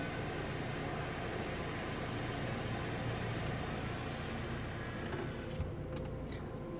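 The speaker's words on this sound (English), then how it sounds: "watch that car go through the dryer" Touch-free car wash dryer blowing on a car passing through a Washworld Razor automatic wash in Smyrna, Tennessee, a loud continuous roaring whoosh of air with a steady mechanical hum and no talking.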